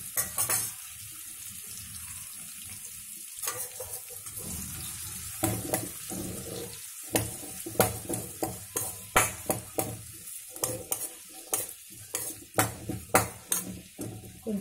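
Onions and cumin fry in oil with a continuous sizzle, broken by repeated scraping strokes of a spoon stirring the pan, the stirring growing more frequent toward the end.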